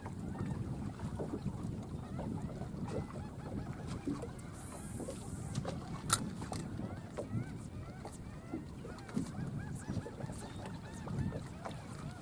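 Rough wind rushing over open water on a fishing boat drifting the sod banks in the morning, a steady broadband roar buffeting the microphone throughout, with faint bird calls in the background.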